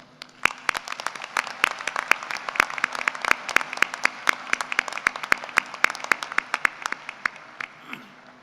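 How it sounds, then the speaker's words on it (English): Audience applause for award winners at a university engineering graduate celebration, a moderate crowd clapping steadily with some crisp nearby claps, tapering off near the end. "Let's give a round of applause to our award winners."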